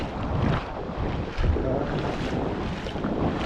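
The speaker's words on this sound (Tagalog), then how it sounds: "Grabe yung lakas ng alon." Strong coastal wind buffets the microphone in a steady roar while powerful sea waves churn and splash nearby, loud and continuous throughout, at a shore fishing spot.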